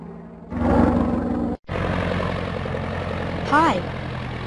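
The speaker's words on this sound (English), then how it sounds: "I am an airplane. I fly in the sky." A steady, heavy airplane engine drone fills the scene, cuts out for a moment, then resumes, with a short rising whistle-like sweep near the end.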